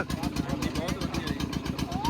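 An engine runs steadily under load, driving a crusher through thick sugarcane while jaggery is being made; a close, continuous rhythmic throb fills the whole stretch, and a voice may be faintly present.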